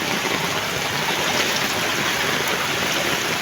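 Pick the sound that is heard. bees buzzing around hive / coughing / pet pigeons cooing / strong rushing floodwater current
strong rushing floodwater current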